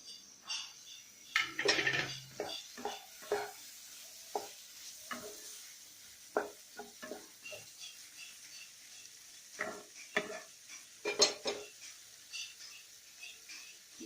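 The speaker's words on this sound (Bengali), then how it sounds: "এবার আমি ভাজা চিংড়ি মাছগুলো এর মধ্যে দেবো।" Fried prawns with green chillies sizzle softly in a pan for Bengali prawn malai curry while a utensil stirs and scrapes, with scattered clinks and taps against the metal at an irregular pace.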